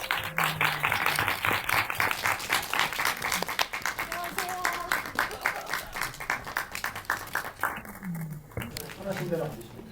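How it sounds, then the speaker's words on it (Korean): An audience at a film talk event claps continuously in a dense, lively patter, with a voice speaking in Korean over the applause now and then. "박수로 맞이해 주세요"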